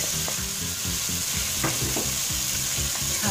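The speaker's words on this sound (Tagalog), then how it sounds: "Haluin." Chicken with black pepper sizzles in a pan as a spoon stirs it, with a rhythmic series of scraping strokes and soft clinks over a constant frying hiss, close up.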